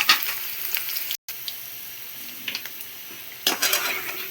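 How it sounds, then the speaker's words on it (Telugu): Garlic and peanuts deep fry in hot oil for a peanut and okra stir-fry, giving a loud, continuous close crackle and hiss with occasional stirring clinks. "దీంట్లోనే పల్లీలతో పాటు డీప్ ఫ్రై కూడా చేసేసుకోవాలి."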